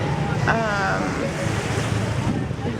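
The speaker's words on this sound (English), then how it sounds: "We're at the beach right now, as you can see" Beach surf washes in a continuous broad rush under heavy wind buffeting on the microphone, with a brief voice-like tone near the start.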